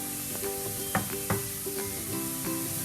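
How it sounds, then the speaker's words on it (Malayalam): Chopped onion with ginger and garlic sautés in a pan, a steady sizzle broken by several scraping stir strokes, close and moderately loud. "അതും കൂടി ഇട്ടിട്ട് നന്നായിട്ടൊന്ന് വഴറ്റുക"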